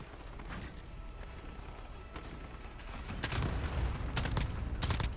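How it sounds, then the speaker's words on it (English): Precision airstrike explosions in Modern Warfare Special Ops, a loud run of sharp blasts and booming impacts that thicken in the last two seconds over a steady rumbling battle bed. "There goes a precision airstrike."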